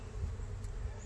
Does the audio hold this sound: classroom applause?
no